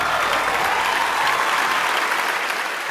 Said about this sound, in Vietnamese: Vậy xin một tràng pháo tay nồng nhiệt cho chị Hồng Ngọc thưa quý vị